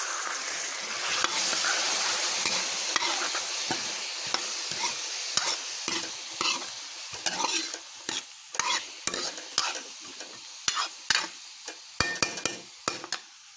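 Peas being stir-fried in a pan for a desi carrot-and-pea sabzi, a steady sizzle overlaid with repeated scraping and clinking stirs of a ladle, close and moderately loud, with no talking.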